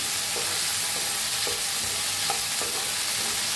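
Potato, brinjal and pea curry is stirred in a pan, with a steady hiss of sizzling oil and soft spoon scrapes every second or so. No one speaks.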